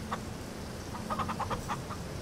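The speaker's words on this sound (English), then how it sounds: "Got some chickens." Several short clucks from chickens in the video game Farming Simulator 22, spaced irregularly over a steady low background hum, fairly close and moderate in level.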